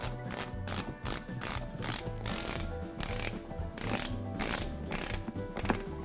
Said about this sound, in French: Une pression et on vient tourner pour ajuster le serrage millimétrique sur l'avant du pied